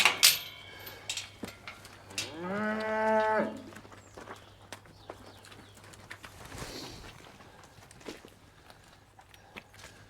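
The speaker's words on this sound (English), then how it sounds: "So there are still 2 heifers in here." A heifer moos loudly in a barn, one drawn-out call near the microphone, with pigeons cooing and faint footsteps and shuffling around it.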